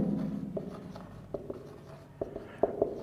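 Pen scratches and taps across paper while notes on gene mutation are written, with irregular soft strokes and clicks close by over a quiet room background.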